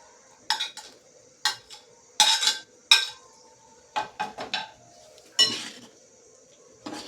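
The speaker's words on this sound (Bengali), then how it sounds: "আমটা দিয়ে ভালো করে নেড়ে নেব পায়েসটাকে" A spoon clinks and scrapes against a pot while sago payesh with freshly added mango pieces is stirred, giving irregular bursts of metallic clinking separated by short quiet gaps, close and clear with no talking.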